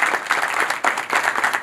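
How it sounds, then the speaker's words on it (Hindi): A crowd applauds steadily, a dense wash of many hands clapping together, briefly dipping in the middle before swelling again. "इसके साथ ही हमने तालियों की गड़गड़ाहट तो सुनाई दे ही गई है।"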